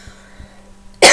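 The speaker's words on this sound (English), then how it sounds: "I need to cough." A single loud, abrupt cough right up close, after a moment of near-quiet.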